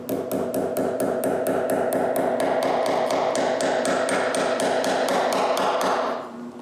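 Hammer driving nails into the front of a handmade wooden bellows held in a vise, a fast, steady run of sharp close taps for about six seconds before stopping.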